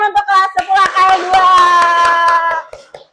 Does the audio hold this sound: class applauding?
yes